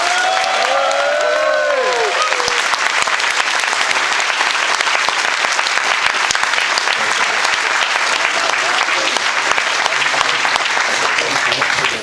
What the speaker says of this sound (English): Got another round of applause for these two.